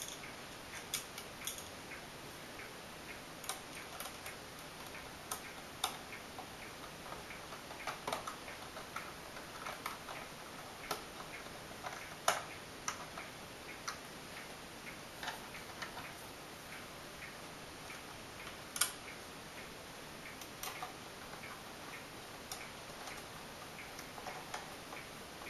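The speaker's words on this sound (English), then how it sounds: "Now reattach the screws." Screws being driven back into the tray of a Shuttle XH61V HTPC: faint, scattered small ticks and clicks in an otherwise quiet room, with no talking.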